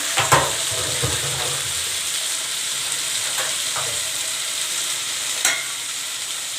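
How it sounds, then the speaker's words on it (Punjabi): Potatoes frying with masala in a pan, a loud, steady close-up sizzle that runs throughout, with occasional sharp ticks and clinks from stirring, and no speech. "ਇੱਧਰ ਆਪਣੇ ਆਲੂ ਜਿਹੜੇ ਭੁੱਜ ਰਹੇ ਹਨ"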